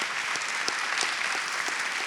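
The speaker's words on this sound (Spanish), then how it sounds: "Vamos a darle un fuerte aplauso a nuestros 3 panelistas" Live audience applause for three panelists at the close of a founders' panel podcast, dense clapping with a few sharper individual claps standing out.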